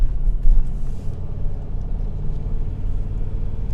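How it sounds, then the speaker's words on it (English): Inside a Ford Expedition truck while driving, a continuous low engine and road rumble fills the cabin at a steady level, with no one speaking. "I'm in a noisy truck. I'm in the Expedition."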